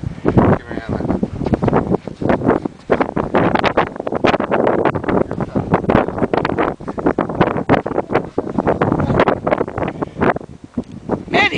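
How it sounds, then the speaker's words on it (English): Wind from the 2011 Chicago blizzard roars and buffets the microphone loudly and continuously, with voices partly buried in the gusts. "then the wind will be in your face"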